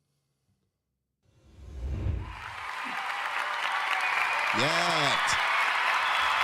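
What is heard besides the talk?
audience applause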